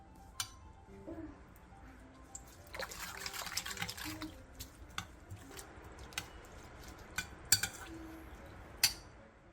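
Seasoning ingredients such as kelp stock, soy sauce, soju, sugar and minced garlic are stirred together in a bowl, producing soft liquid sloshing and trickling broken by occasional sharp clinks of a utensil against the dish, quiet overall.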